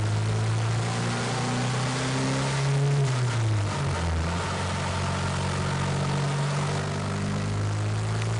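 A turbocharged car engine on a test run with an AEM Tru-Boost boost controller drones steadily, its pitch sagging briefly midway before climbing again as boost builds, with constant cabin and road noise underneath.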